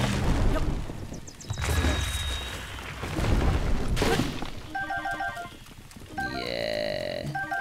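Bomb blasts in Zelda: Breath of the Wild on Master Mode, several loud booming bursts amid busy game noise, followed by chiming sound effects near the end.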